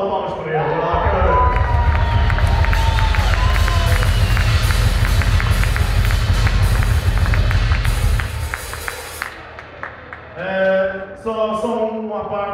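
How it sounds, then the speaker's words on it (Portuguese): A concert crowd at a small music festival claps and cheers loudly and densely for several seconds, with whoops over the clapping, then thins out as voices talk nearby. "Uma salva de palmas para ele"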